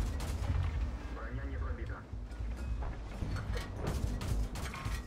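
Gunfire and impacts crackle through a World of Tanks battle on the Karelia map, a busy mix of shots and booms with someone talking over part of it.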